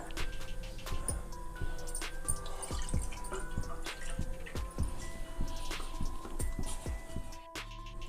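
Water poured into a pan for making rice flour chip dough, a steady splashing pour with small drips, set against a faint tonal background.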